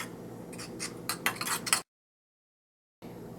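Toothpaste and a few drops of red food coloring stirred together in a dish, giving a run of light clinks and scrapes with a short silent gap before the quiet mixing resumes.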